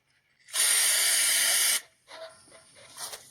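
Aerosol undercoating sprays in one steady hiss of a bit over a second onto the floor nuts of a foldable RV step stool, close and loud, followed by quieter handling noises.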